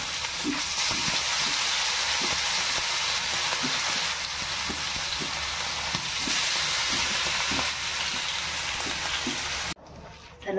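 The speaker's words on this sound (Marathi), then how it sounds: "तेल आपलं तापलेलं आहे, त्याच्यात आपण लेग पीस टाकून गॅस कमी केली." Chicken leg pieces fry in heated oil on a lowered gas flame, a constant loud sizzle with small crackles and pops throughout, cutting away sharply near the end before resuming briefly.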